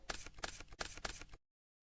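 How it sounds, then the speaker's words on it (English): A brisk riffle of a deck of Yu-Gi-Oh! cards in Duel Links, several quick bursts of crisp flapping over about a second and a half, close and clear, then silence. "Shuffle it up."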